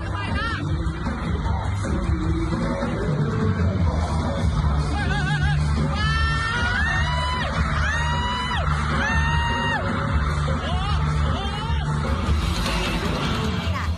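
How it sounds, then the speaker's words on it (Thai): A crowd of fans at a celebrity appearance screams and shrieks loudly and continuously, with high-pitched squeals rising over a dense, steady roar of voices. "ค่ะเสียงกรี๊ดจากแฟนคลับค่ะอู้กรี๊ดกันดังลั่นสนามเลยทีเดียวนะคะ"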